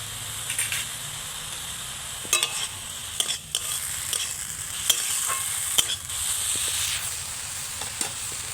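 Potato pieces fry with a constant sizzle in a pan while a spatula scrapes and taps irregularly, several distinct knocks among the hiss of hot oil; close up, with no voices.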